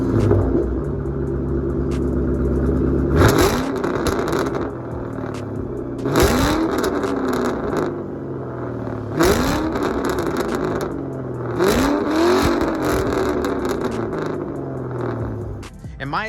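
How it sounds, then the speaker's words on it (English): A 2005-2009 Ford Mustang 3-valve V8 idles with a deep, throaty burble through its exhaust, then revs sharply several times, each rev rising and falling back, loud and close. "The exhaust note on this car is amazing."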